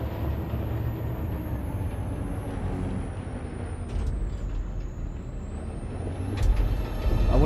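A video-game truck engine drones steadily, with a rising mechanical whine and a hiss like an air brake near the end.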